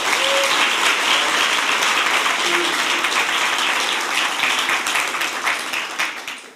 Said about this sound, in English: can we have a round of applause for Richard?